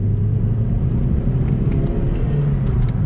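A Toyota MR2 Mk3 pulling hard in second gear, its engine a loud, steady rumbling drone heard close from inside the car with no talk.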